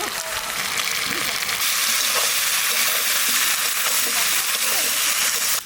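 Pieces of elephant foot yam frying in hot oil with salt and turmeric give a loud, continuous sizzling hiss close by, with faint scrapes of stirring underneath and no pause throughout.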